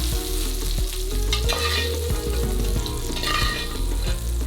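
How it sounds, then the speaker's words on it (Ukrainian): Prunes frying in clarified butter in a pan, a steady close sizzle with stirring clatter and scraping throughout. "Тож обсмажуємо його в топленому маслі і прибираємо."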